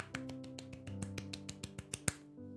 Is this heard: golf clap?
yes